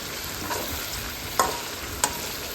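Mutton pieces stirred in a pot with spices, ghee and fried onions for homemade mandi, giving a soft, steady scraping sizzle broken by two sharp clinks of the utensil against the pot.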